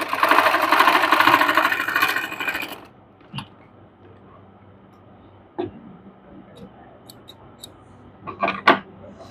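A sewing machine stitches a narrow fabric strip onto a pant hem, running in a loud steady whir for under three seconds, then stopping; a few faint clicks and handling knocks follow in near quiet.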